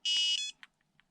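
A Flysky FS-G7P radio transmitter sounds its low voltage alarm: a sustained high electronic beep lasting about half a second, followed by a few short, fainter chirps.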